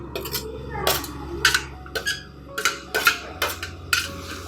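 A spatula stirs capsicum and carrot roasting in a pan with onion and tomato, making a series of irregular scraping and clattering strokes, fairly close, about seven distinct bursts over a few seconds.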